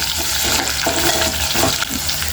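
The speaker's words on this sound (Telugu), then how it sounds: "శనగపప్పు ఇప్పుడు పల్లి ఇవి పచ్చిమిర్చితో ఫ్రై అయిపోతాయండి" Chana dal, peanuts and green chillies fry loudly in a pan for ridge gourd chutney, making a dense, close crackling sizzle with the rustle of stirring running through it.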